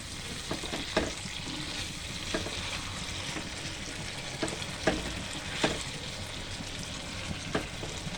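Pieces of chicken for chili chicken fry in a pan with a continuous soft sizzle. The sound is fairly quiet and steady, broken by occasional scrapes and clinks of stirring, and no one speaks.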